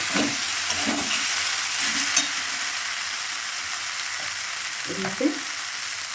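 Masala spices with turmeric, Kashmiri chili and red chili powder sizzle steadily in a pan for a Bengali koi fish curry with cauliflower and potato, with a few soft stirring scrapes and clinks rising above the constant frying hiss.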